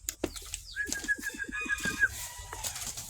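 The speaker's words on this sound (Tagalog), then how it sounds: "Mga kalapati natin sa labas na." Pigeons outdoors make soft, low cooing in quick short pulses, mixed with a thin whistling tone and faint background noise.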